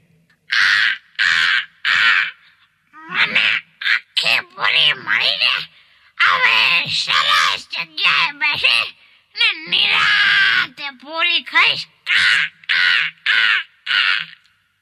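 A rapid run of loud, harsh crow caws, repeated again and again in short bursts, with voice-like sounds mixed among them.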